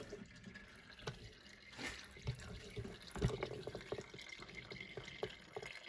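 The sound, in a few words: coolant draining and dripping from Jeep hose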